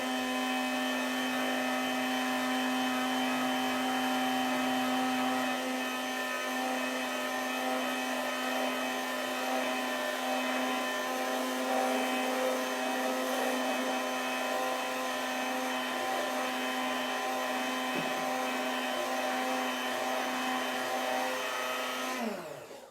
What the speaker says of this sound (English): Okay, so hand blender on whilst we put our oil in.